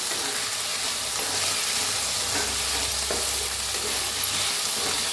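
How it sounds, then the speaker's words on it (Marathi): Potatoes frying and being stirred in a hot pan, a steady dense sizzle running throughout with faint scrapes of stirring, close and continuous, no talk. "बटाटो भाजून घेऊया हलवून घेऊया"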